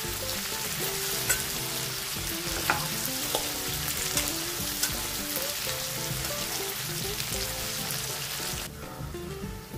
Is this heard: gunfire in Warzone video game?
no